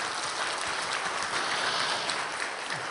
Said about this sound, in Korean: 영광의 박수를 하나님께 돌립니다